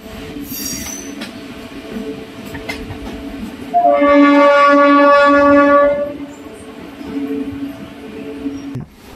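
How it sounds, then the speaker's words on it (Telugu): A MEMU commuter train pulls into platform 2 at small Vangapalli station, rumbling near and loud while brakes or wheels squeal in a rising, steady multi-toned whine for a few seconds before fading back to rolling noise. "ఉదయం 10 గంటల 50 నిమిషాలకు మన ట్రైన్ వంగపల్లిలోని ప్లాట్ఫామ్ నెంబర్ 2కు చేరుకుంది"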